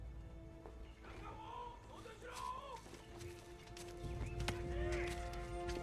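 A horse whinnies over clopping hooves amid a busy battlefield scene, with voices talking over the top and a low rumbling bed that swells toward the end.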